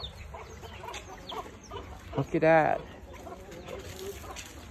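A rooster gives a short burst of clucking over a noisy outdoor background, with a person speaking briefly nearby.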